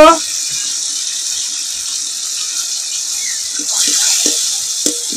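Mashed spiced potatoes hit hot oil in a pan with a bright, broad sizzle that holds steady, then a few scraping stirs near the end; speech is barely present.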